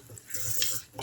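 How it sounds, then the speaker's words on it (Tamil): A Sri Lankan fish curry with tomato and tamarind being stirred in a pot, giving a brief soft scraping swish over a gentle sizzle, close and fairly quiet. "இப்போ இது எல்லாத்தையும் கிளறி விடுங்க."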